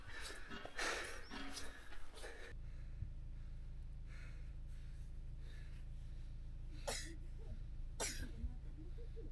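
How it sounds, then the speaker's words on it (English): Several sharp coughs up close in the first couple of seconds, then a steady low hum with two more brief coughs later on. "Thank you for coughing in my face."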